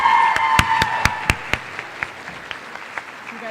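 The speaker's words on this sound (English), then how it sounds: "If we could give one more round of applause to our speech and debate letterers." Applause at a high school fine arts awards night for speech and debate letterers, a brief round that quickly thins out to a few sharp, isolated claps from nearby hands.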